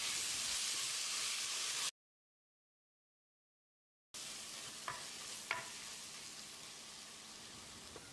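Mutton masala frying in a pan while being stirred gives a steady close sizzle with a few scraping clicks of the spoon, broken by a two-second stretch of silence in the middle.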